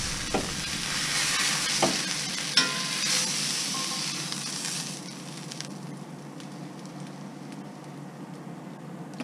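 A Wagyu steak sizzles on high heat in an iron skillet, with a steady crackling fry that is louder over the first half and then settles into a quieter, even hiss, with no one speaking.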